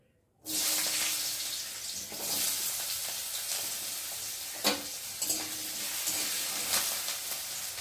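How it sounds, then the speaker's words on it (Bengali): Small cut potatoes frying in hot oil in a wok, a steady dense sizzle that bursts in loudly and holds, with a few stirring knocks and scrapes. "যেহেতু আলুটা ভাজা ভাজা হয়ে যাচ্ছে"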